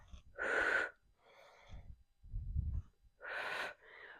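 Heavy breathing during a fitness workout: a few loud, close breaths alternate between sharp hissing inhales and lower, breathy exhales, with short pauses between them.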